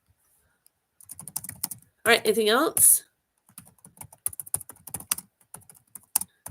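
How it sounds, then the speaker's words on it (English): Fast keyboard typing clatters close by in quick bursts, with a person talking briefly in between. "Sorry, I'm typing like that."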